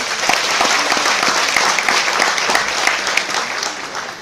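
Steady applause from a seminar audience gathered for a Vestige product information session, dense and continuous with no pauses, filling the room at close range throughout.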